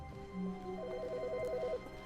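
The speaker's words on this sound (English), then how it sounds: "Phone." Telephone ringing in The Stanley Parable video game, a faint, thin electronic warble trilling quickly over a low steady hum for about a second, with no voices.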